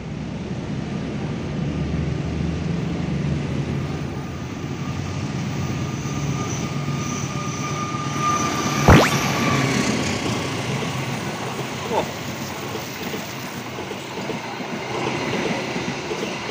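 The Argo Dwi Pangga passenger train, a new-generation trainset, rolls past with a loud sustained rumble and rail noise, a sharp horn-like swell near the middle, then a continuing roar as the cars go by.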